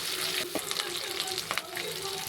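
Mustard seeds, cumin, fenugreek, shallots and garlic frying in hot oil, a steady loud sizzle broken by a couple of stirring clatters, close by.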